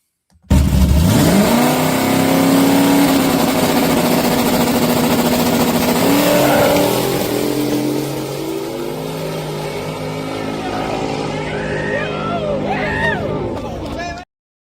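A tuned car driven at a racing event, its engine roaring loud and close with a sustained rising tone that settles into a steady drone, with people talking over it.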